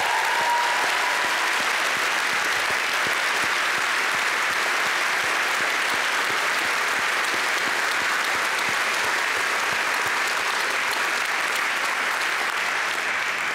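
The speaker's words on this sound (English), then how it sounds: "I think we should give her a special applause for doing that" A large graduation audience at the University of Dundee applauds in a loud, sustained, evenly dense wash of clapping that continues without a break.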